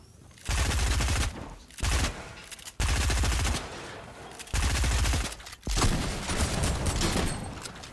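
Shotgun fire in the video game Fortnite comes as loud, dense bursts of blasts, about five sustained volleys with short gaps between them, close and overwhelming.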